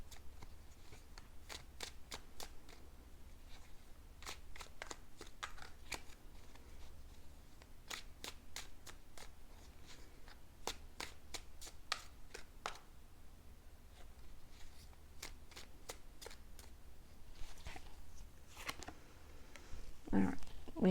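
Tarot cards are shuffled by hand in a quiet room, a long run of crisp riffling flicks and soft slaps in irregular bursts, fairly close and faint, with no talking.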